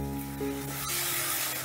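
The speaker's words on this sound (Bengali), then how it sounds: "আঁচটা বাড়িয়ে দিয়ে মশলাটা বেশ ভালো করে কষে নেব" Spice paste with cashews, ginger and tomato cooks in a pan over raised heat, making a soft, steady, quiet sizzle for a brief moment.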